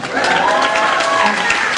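An audience at a comedy show claps and cheers together, a steady dense wash of applause filling the room.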